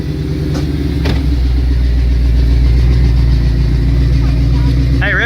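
A 2003 Cobra car with a blown, oil-burning bad motor runs close and loud, holding a rough, steady engine drone with a brief rev rising near the start, under occasional background voices.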